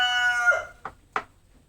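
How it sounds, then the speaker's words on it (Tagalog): A rooster's crow trails off, followed by two short clucks close by; no talking. "Talagang nai-interrupt po tayo nung ano, nung manok na tumitilaok"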